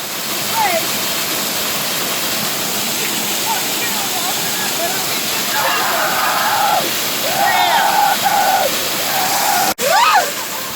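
Steady, loud rush of a waterfall at Saint Mary's, Newfoundland, filling the whole clip, with some voices and splashy sounds over it near the end.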